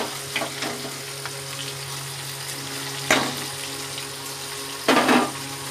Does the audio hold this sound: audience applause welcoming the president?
no